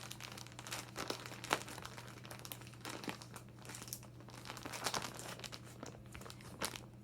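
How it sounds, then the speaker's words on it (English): A plastic storage bag is folded over to push the air out, giving close, soft crinkling and crumpling rustles with a few sharper crackles throughout. "you can open it up and then fold it over, get all the air out"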